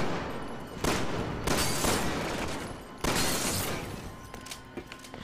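Gunfire in the video game Resident Evil 6 comes as several loud, sharp blasts with ringing decay spaced through the stretch, followed by fainter clatter toward the end.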